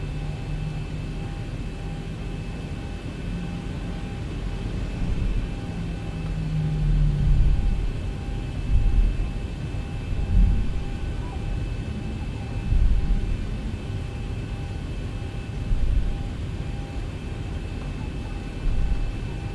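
Boeing 737-800 jet engines spool up and roar during a takeoff roll in a flight simulator, a steady low rumble that swells and surges in waves across the run, with no voices over it.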